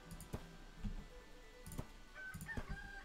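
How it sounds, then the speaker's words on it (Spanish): Chickens in the Kingdoms and Castles village-building game, several short clucks and a crowing call in scattered bursts, fairly faint over a quiet background hum, with no talk. "Canta la gallina."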